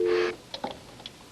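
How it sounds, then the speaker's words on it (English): A telephone handset on a New York Telephone line just repaired from a loose connection, giving a short steady tone that cuts off after a fraction of a second, followed by faint clicks and soft background noise. "Got a dial tone now."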